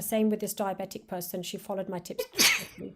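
Someone talks steadily, then a single sharp sneeze from someone nearby bursts out near the end, loud and close.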